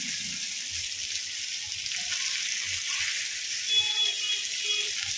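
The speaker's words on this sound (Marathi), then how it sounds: "तर आता या साईडने पण आपण मस्त व्यवस्थित फ्राय करून घेऊया" Constant hissing sizzle of pomfret fish frying in a pan, an even close-up crackle with a few faint clinks and no voices.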